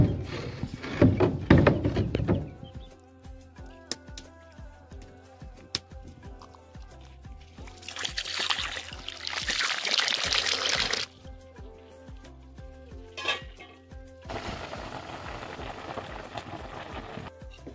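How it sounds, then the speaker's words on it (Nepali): Raw chicken meat being rinsed under running water, with intermittent bursts of splashing and pouring interrupted by clatter and quieter pauses, heard close up. "म चाहिँ यहाँ कुखुरा धुँदैछु।"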